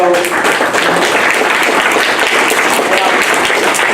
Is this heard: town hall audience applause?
yes